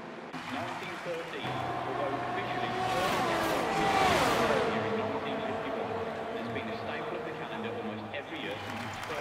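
Formula 1 race cars in a racing video game accelerate away from a safety car restart at the Spanish Grand Prix, engines rising and falling in pitch as they pass, with commentary running over the racing noise.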